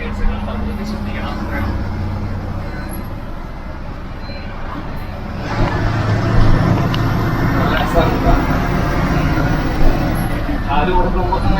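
A brand-new Leyland 13.5 m sleeper bus driving on a Tamil Nadu road, its engine droning steadily and rising in a louder rumble partway through, heard from the cab while someone talks over it.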